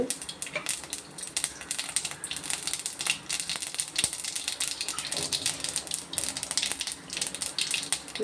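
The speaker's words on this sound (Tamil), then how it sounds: "சின்னதாக தாளிப்பு போட்டுடலாம். கடுகு, கொஞ்சம் உளுந்து" Mustard seeds and urad dal crackle and pop in hot oil for a small tempering, a dense, close sizzle with rapid irregular spatters throughout.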